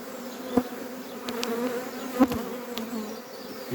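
Honeybees from an artificial swarm hum steadily close by, a continuous low buzzing with a few louder passes as individual bees fly near.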